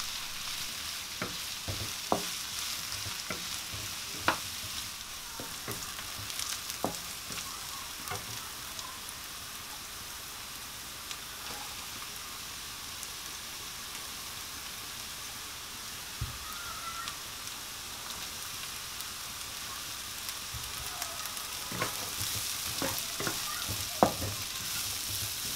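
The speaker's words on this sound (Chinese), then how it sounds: "那油热了之后呢，先把两种蘑菇下去翻炒" Two kinds of mushrooms are stir-fried in hot oil with a low, steady sizzle, broken by intermittent clicks and scrapes of a spatula against the pan over a long stretch, with no talking.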